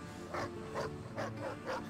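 A dog in the Mad Max video game barks four times in an even rhythm, each bark short and moderately loud over a low background hum.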